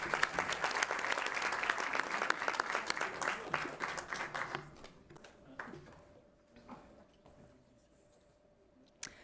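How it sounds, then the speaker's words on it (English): Warm round of applause from an audience at a South African university research launch, dense steady clapping for several seconds that then fades to a few scattered claps and quiet room noise. "Let's give a warm round of applause for the University of Limpopo"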